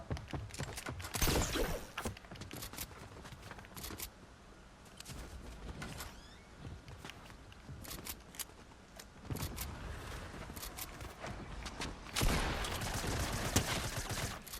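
Gunfire in the Fortnite video game crackles in dense, loud bursts through most of the stretch, with rapid repeated shots and a heavier barrage near the end, busy and continuous with no talk over it.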